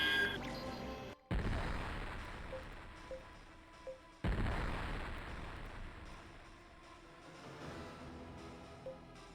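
Artillery barrage in the space combat game Infinite Space: dense rumbling blasts with two sharp, loud booms that cut in abruptly, over a continuous low roar, no talk.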